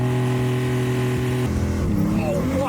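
McLaren 765LT under launch control holds a steady high-revving engine drone, then drops and surges as it launches and accelerates hard, loud and close, with voices over it.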